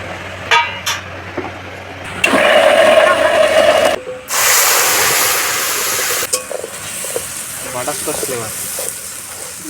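Whole garam masala, bay leaves and dried chillies hit hot oil for picnic meat, bursting into a loud, steady sizzle with stirring scrapes, nearby and close up, with voices talking around it.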